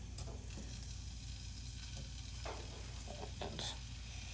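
Steak sizzles in an oiled pan over medium heat, a steady close hiss and crackle with a few sharper spits and pops, and no voice over it.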